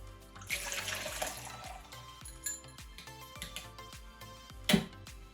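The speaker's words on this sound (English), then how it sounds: "Now I'm going to pour my mixture into my jug." Beaten egg mixture with a pinch of salt poured from a bowl into a jug, a steady close liquid stream with light clinks of the container, alone without talk.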